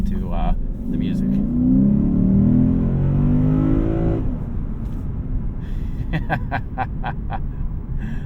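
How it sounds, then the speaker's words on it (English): A 2024 Lexus IS500 F Sport's naturally aspirated 5-liter V8 revs loud and close, climbing for about four seconds before cutting off into a lower, rough idle-like rumble with a few sharp clicks. "what you're going to be listening to is the naturally aspirated 5-liter V8"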